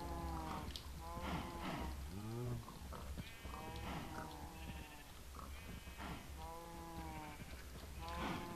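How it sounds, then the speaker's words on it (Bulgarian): Cows moo repeatedly in Minecraft, with sheep-like bleats mixed in, overlapping calls from a small herd in a pen, fairly close and continuous, with faint talk beneath. "Хубавите ми кравички."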